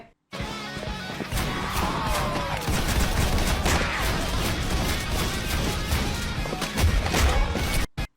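Roblox gunfire crackles in a dense, continuous barrage with crashes and thwacks mixed in, loud and busy from start to finish before cutting off abruptly.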